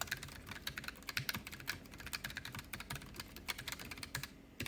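Typing on a Keychron K3 low-profile mechanical keyboard with brown switches, a steady run of close, crisp keystroke clicks with uneven rhythm and no talking.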